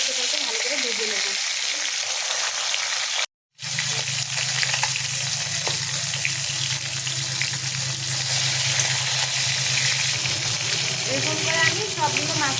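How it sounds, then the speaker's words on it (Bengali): Rohu fish pieces fry in hot oil in a pan, with a loud, continuous sizzle and crackle that runs almost throughout, broken once by a brief cut. "এখন আমি উল্টোটাকে ভালো করে ভেজে নেব।"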